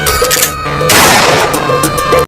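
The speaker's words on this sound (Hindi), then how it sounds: "दोनों बंदूक से गोली चला देता है" A burst of loud cartoon gunfire from two guns cracks out close by, a rapid cluster of sharp shots that dies away abruptly.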